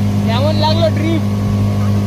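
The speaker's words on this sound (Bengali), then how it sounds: "দারুণ ড্রিফট মারছে বোট নিয়ে।" Speedboat on Patratu Lake, a steady loud engine drone as the boat swings through a drift, with people talking and calling out over the motor throughout.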